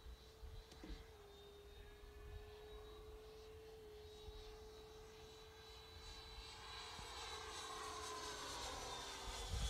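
Freewing Avanti radio-controlled model jet flying overhead at a club field, a faint steady turbine whine holding pitch and slowly growing louder as it nears, with light wind noise.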